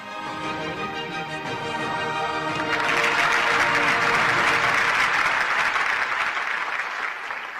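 Loud applause fills an auditorium at a women's self-help group event, building from lighter clapping with a lingering musical tone to a dense, sustained roar of clapping that tapers slightly at the end.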